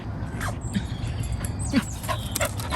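A happy dog in France giving a few short whimpers and yips over steady background noise, with people talking nearby.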